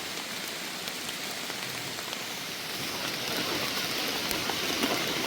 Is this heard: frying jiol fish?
no